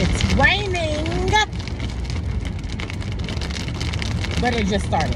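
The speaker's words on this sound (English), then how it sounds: "It's raining." Rain falling on a car, a steady soft patter and hiss on the roof and glass heard from inside, with a voice talking over it near the start and again at the end.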